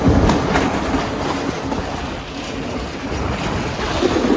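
The Podimanike passenger train travels on rails in upcountry Sri Lanka, from Badulla toward Colombo, with a continuous loud rumble and rattling carriages, steady throughout with no voices.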